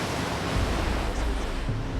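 Strong waves crashing on a dangerous, jagged rocky coast, a loud continuous roaring surf with steady churning wash and no voices.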